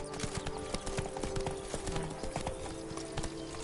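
Steady clip-clop of Roach the horse's hooves at a walk in a video game, regular close hoofbeats over a low ambient game backdrop.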